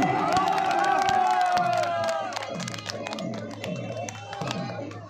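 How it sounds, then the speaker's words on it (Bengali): A crowd at a village prize-giving ceremony for runners-up, Bhogmara Charkerdanga, cheers and applauds loudly and steadily, with shouting voices mixed in throughout. "জোরে হাততালি পারি।"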